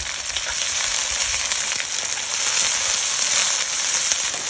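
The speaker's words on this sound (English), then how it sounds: "I'll put those onions in first and start breaking them down a little bit" Onions fry in oil in a Lodge wok set over a Weber charcoal grill outdoors, a loud, dense, unbroken sizzle close by with faint stirring texture.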